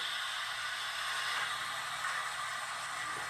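A steady, faint rushing hiss, like steam and water forced through a pipe, holds evenly for a few seconds with no voices.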